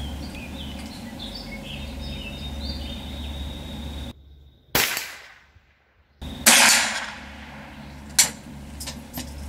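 Sharp reports from a Rossi .22 rifle at an outdoor range, with about three cracks in the second half after a stretch of quiet birdsong and background hiss.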